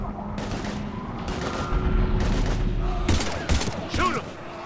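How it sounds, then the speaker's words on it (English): Heavy gunfire in the video game Mass Effect 3, with repeated bursts and rapid volleys layered over a steady battle rumble, punctuated by loud near shots and voices talking throughout. "We're taking heavy fire."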